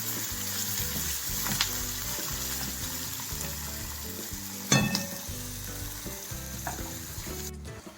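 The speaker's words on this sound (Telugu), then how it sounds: "ఈ ఉల్లిపాయ బ్రౌన్ కలర్ వచ్చేదాకా వేయించుకోవాలి పచ్చివాసన పోయేదాకా వేయించుకోవాలి" Onion and three green chilies frying in a pan for a ridge gourd and prawn curry, a loud continuous close sizzle with stirring scrapes and occasional sharp clinks of the spoon against the pan, no talking.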